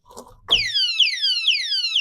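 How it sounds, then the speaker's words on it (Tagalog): After a short rattle, a motorcycle disc lock alarm starts wailing in rapid repeating descending chirps, loud and shrill, about two per second. "tutunog na yung alarm niya"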